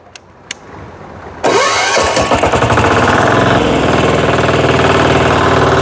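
A Motor Sich walk-behind tractor engine starts after a couple of clicks, then runs loud and close with a steady, rapid chugging idle that continues to the end.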